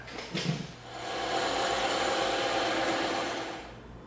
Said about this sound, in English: Now we can go ahead over to the bandsaw and knock that out.